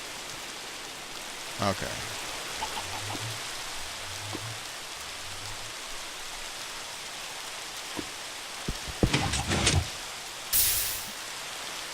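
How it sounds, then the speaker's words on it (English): Steady rain falls in the Minecraft video game, a constant hiss running throughout, broken by a few short clicks and bumps of game sounds and a brief spoken word. "It's raining! Oh, I love it when it's raining."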